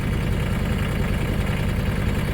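Mahindra tractor with a loader, its diesel engine idling nearby in a steady low rumble with constant vibration and no breaks.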